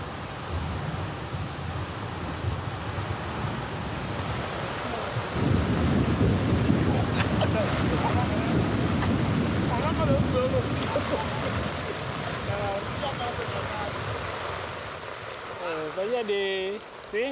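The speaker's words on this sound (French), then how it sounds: "Je n'aime pas le tonnerre ni l'orage," A tropical thunderstorm on the Bissagos Islands of West Africa, with steady heavy rain hissing on surfaces and deep rumbling thunder that swells midway, while a voice speaks over the storm.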